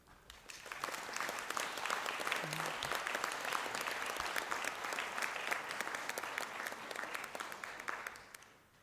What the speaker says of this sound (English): I ask the graduates of the Masters in Governance to stand for a round of applause